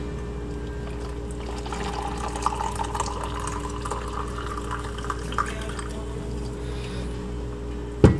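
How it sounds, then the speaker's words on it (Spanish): Almond milk pours in a short, soft trickle into a latte against a constant low hum, ending with a sharp knock. "Y un chorrito bebé de leche de almendra."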